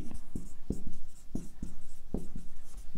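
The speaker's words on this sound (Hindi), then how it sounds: "मैं पूरा लिखता हूं" Handwriting with a pen on paper during an exam-preparation lesson, with short scratchy strokes in a steady, close rhythm over a low background hum.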